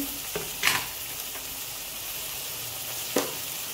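Onion-coconut paste and spices frying in a pan for an Indian festival dish, with a steady soft sizzle and a few brief stirring scrapes, no one speaking.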